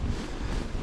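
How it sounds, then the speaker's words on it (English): Brief burst of steady wind buffeting on an exposed moor between Killin and Loch Ossian, a dense low rumble like gusts hitting a microphone outdoors. "Pretty windy today, so I think it's going to be quite exposed up there."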